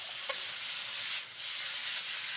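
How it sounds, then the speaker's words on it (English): Rice noodles and sauce tossed in a wok for beef chow fun, a steady broadband sizzle with a brief clatter near the start and a swell of scraping as the noodles are flipped, close and alone. "Even more ideally, toss the wok to mix the sauce well."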